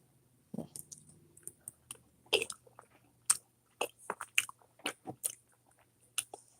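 Close, quiet chewing of seasoned cooked food with cheese: irregular crunchy bites and wet mouth clicks at a halting rhythm, with no talking.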